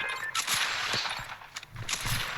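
Rapid bursts of gunfire in the video game Fortnite crackle loudly and close, in repeated volleys with brief gaps and no talk.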